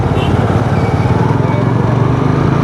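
A motorcycle engine runs steadily close by, a constant buzzing drone with voices faintly mixed in.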